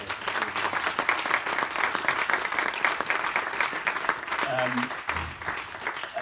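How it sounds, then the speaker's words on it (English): A round of applause at a community wind fund awards evening: dense, continuous clapping from a crowd, filling the whole stretch without a break. "So a round of applause, I think, to Rich and to Helen."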